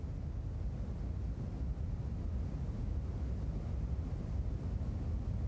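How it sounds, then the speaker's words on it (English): Radio noise from the cosmic microwave background, the afterglow of the Big Bang, plays as a steady, unbroken hiss with a dense low rumble and no change in level. "This is the sound of the Big Bang"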